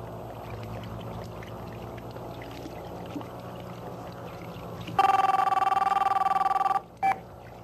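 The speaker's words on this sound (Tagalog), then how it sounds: "Boss, telepono. Para sa inyo." A telephone rings loudly with a sharp electronic trill lasting about two seconds, followed by a brief second burst, over a low, steady room hum.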